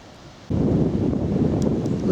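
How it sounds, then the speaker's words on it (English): A sudden strong gust buffets the microphone on a countryside circular walk near Sevenoaks, a loud, rough roar that surges in and stays steady until the end. "Whoa, the wind."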